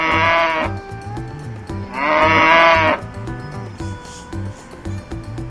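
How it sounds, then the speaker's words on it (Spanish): Farm cattle give two loud, close moos with a long drawn call between them, over a steady rhythmic backing beat. "La vaca muge."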